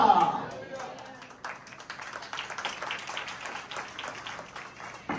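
Church congregation applauding during a Hindi-Urdu sermon, scattered claps that build into a dense, fairly soft round of applause lasting several seconds.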